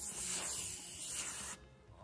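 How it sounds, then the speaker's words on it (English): A steady hiss of an aerosol spray can, held close while spray painting the bottom of a canvas, runs for about a second and a half, then cuts off abruptly. "I will spray paint the bottom"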